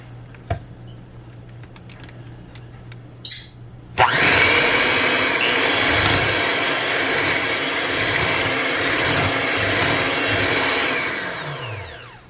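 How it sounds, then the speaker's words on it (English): A few knocks and taps sound first, then an electric hand mixer starts abruptly and whirs loudly and steadily through whole milk for banana pudding. The churning motor continues near and unbroken to the end. "I'm going to mix it with a hand mixer"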